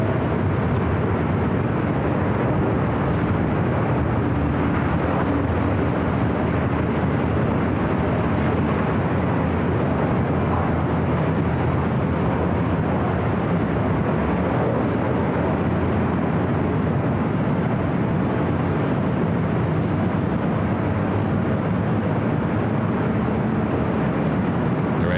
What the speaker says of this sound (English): Speedbird, the 777-300ER flight heading back to London Heathrow on taxiway Bravo on the south side.